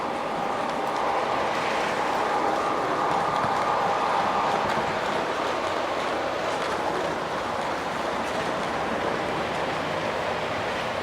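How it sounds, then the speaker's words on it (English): A small model train on a display layout rumbles steadily along its track, a continuous rolling clatter with a faint hum, close by and without pause. "they've got motion sensors in here because the trains just started running as I walked in"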